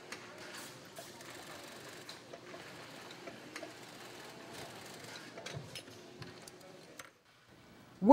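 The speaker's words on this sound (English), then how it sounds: "Workers secure the pack frame directly to the BCD body through the back pad using a special heavy-duty sewing machine." A special heavy-duty sewing machine stitches a pack frame through the back pad onto a scuba BCD body in a factory, its rapid mechanical chatter running faint and steady before briefly stopping near the end.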